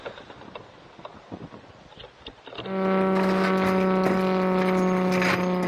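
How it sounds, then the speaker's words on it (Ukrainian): A droning Shahed drone engine hum rises out of faint background noise and holds steady, a buzzing motor tone growing closer. "Акустично ми вже чуємо ж підлітаючий шахет."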